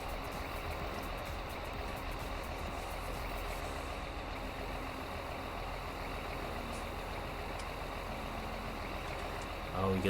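A tractor engine in Farming Simulator 19 runs steadily at a constant drone, loud and continuous, with a brief change in the final moment.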